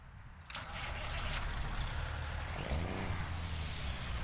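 A Cummins ISX truck engine with a 605-horsepower tune in American Truck Simulator starts with a sudden onset, then holds a steady, loud, rumbling drone with a slight rise in pitch partway through.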